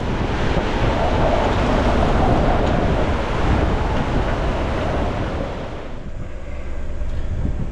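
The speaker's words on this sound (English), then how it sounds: "this is a violent storm, even though the waves are smaller" Wind roars and waves crash in a violent storm at sea around a sailboat, a loud dense wash with heavy buffeting on the microphone that eases briefly toward the end.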